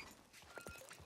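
Horse hooves clip-clop in Red Dead Redemption around Blackwater: a brief, faint run of soft, rhythmic hoof thuds with no talk over them.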